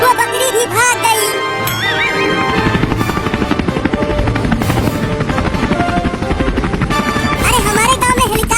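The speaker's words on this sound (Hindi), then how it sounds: "अरे हमारे गांव में हेलीकॉप्टर" Steady, loud chopping drone of a helicopter flying over a village in a cartoon comedy, with voices and other sounds layered on top.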